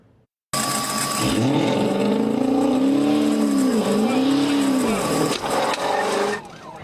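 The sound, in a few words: car speeding and whipping around an intersection, dash cam video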